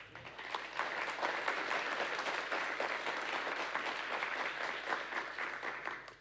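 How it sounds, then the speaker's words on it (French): An audience at a French public-television conference session applauds steadily, a sustained roomful of clapping that swells and then tapers off at the end. "on peut les applaudir."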